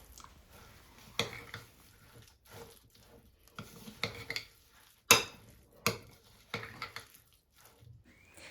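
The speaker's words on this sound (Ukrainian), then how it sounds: "Досипаємо і вимішуємо далі." A spoon works thick cheese pancake batter in a bowl, with soft squishes and occasional sharper clinks against the side, irregular and close.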